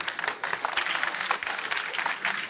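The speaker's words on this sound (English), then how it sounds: "Let's give them another round of applause." An audience at a women's health panel forum applauds the panelists with a brief burst of crowd clapping, dense and fairly close, with sharp individual claps standing out in the wash.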